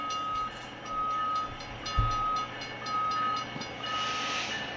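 Freight train passing a grade crossing, steady rolling rumble with rhythmic clacks of wheels over joints and a repeating crossing bell tone, heard from trackside at moderate distance.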